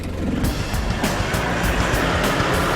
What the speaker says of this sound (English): the big V8 hoiks Milo straight out of there